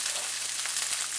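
Red pepper hitting smoking-hot peanut oil in a wok for Thai drunken noodles, with a dense, bright, steady sizzle close by and faint taps of the utensil underneath.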